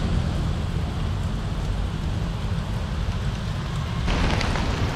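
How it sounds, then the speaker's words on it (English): Heavy rain falls in Jakarta, a steady dense hiss of downpour on surfaces throughout, close and loud, growing slightly brighter and heavier near the end. "Taking refuge again from the rain."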